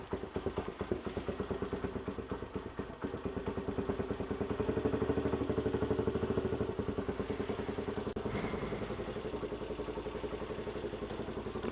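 A Haosen Hawk 250 motorcycle engine with a Sheng Wey PZ30 carburettor idles fast while warming up, giving a steady, rapid, close-up putter with a faint mechanical clatter and a brief thump at the end.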